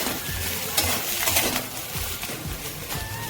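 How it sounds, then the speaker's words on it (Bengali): Mashed potatoes are stirred and fried in a pan, giving a steady scraping and soft sizzle with a few clinks of utensil against metal, close and continuous. "এবার আলুগুলোকে ভালো করে নেড়ে চেড়ে একটু ভেজে নেব।"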